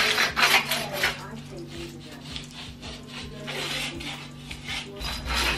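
A hand tool scrapes a damp wall surface in a small room under renovation in Jamaica. The rasping strokes are steady and close and continue throughout the clip.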